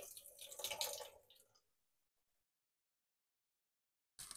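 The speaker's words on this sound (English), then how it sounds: "I'm drain the water off this whole kernel" Water drains off canned whole kernel corn, splashing and trickling for about a second and a half before fading to silence, followed by a fresh burst of pouring at the end.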